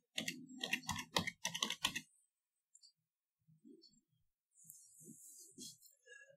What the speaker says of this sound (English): I will type Registry in the Filter Items box.